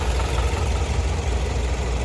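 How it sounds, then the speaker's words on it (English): A Toyota Camry engine with a charging system malfunction idles steadily, a close, continuous low rumble with an even, unbroken hum and no speech over it. "The engine sound changed as well."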